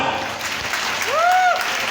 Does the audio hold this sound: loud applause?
yes